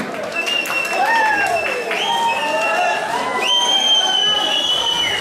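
Guests at a wedding celebration applaud and cheer: sustained clapping from a crowd, with sharp rising whistles and cheering cries over it, lively and fairly close throughout.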